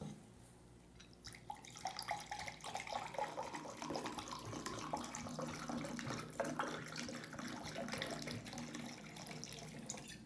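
Water runs and splashes steadily, like pouring into a glass or from a tap, starting after a brief quieter moment and continuing evenly to the end, close by with no talking.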